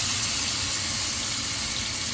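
Freshly caught fish lowered into boiling oil, producing a continuous, bright, even sizzling hiss that holds steady without pauses.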